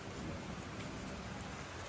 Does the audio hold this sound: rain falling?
yes